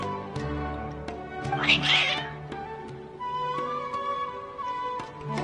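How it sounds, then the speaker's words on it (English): Agitated cats in the Genshin Impact video game meow and yowl in a burst of strained, drawn-out cries, set against steady game music and sharp clicking ticks. "Your cats seem pretty worked up."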